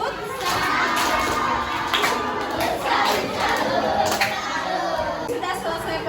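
A classroom of schoolchildren doing a rhythmic salute clap together, their claps mixed with loud shouted chanting that rises and falls in bursts, close and lively.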